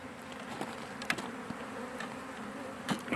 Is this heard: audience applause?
no